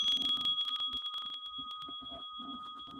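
A mindfulness bell is struck, its bright sustained tone ringing steadily and slowly fading as a voice talks quietly underneath.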